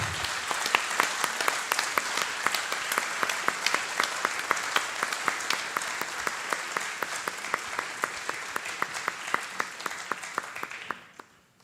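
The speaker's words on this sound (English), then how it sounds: "he's well deserving of a round of applause" Applause at the annual general meeting of a bell ringers' council, a dense crowd clapping steadily for about eleven seconds before cutting off sharply.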